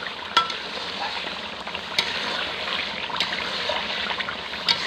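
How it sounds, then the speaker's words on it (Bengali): Spice paste is stir-fried over a smoky village stove for a poultry chicken curry, giving a continuous hissing sizzle with occasional sharp clicks of the spatula scraping the pan, steady and close with no voices. "এই মশলাটা একটু বেশি করে কষাবো। এখন কষাইতেছে, মশলা বেশি করে কষাবো।"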